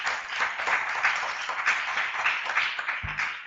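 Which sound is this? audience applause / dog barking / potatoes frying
audience applause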